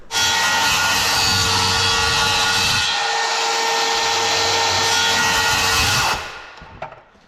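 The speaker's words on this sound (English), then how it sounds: "Now this blade is dull on this little reciprocating saw, but I'll tell you, when cutting these notches, clean them up, these work like a charm" A small battery reciprocating saw with a dull blade cuts notches in a wooden header for garage door trim. It buzzes loud and steady for about six seconds with a rough rasping texture, then winds down.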